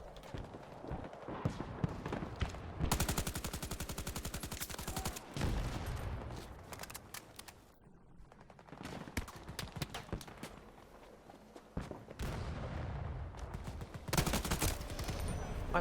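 Dense bursts of gunfire aimed at the player in the shooter game Battlefield 2042, rapid automatic volleys and sharp shots repeating loudly across the whole stretch with brief lulls, no talk over it.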